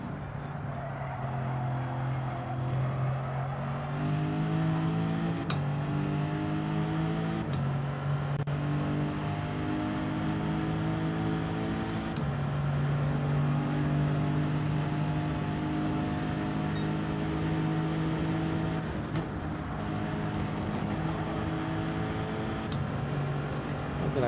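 Race car engine in Gran Turismo 7, a constant loud drone through the whole run, pitch stepping up and down as the car shifts gears, with no talk over it.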